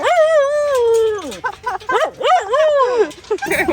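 Dogs at a home garden give loud, close yips, whines and drawn-out howling cries in quick succession, with no talk in between.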